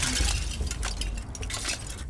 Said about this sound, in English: One of the officers broke the glass of an outer door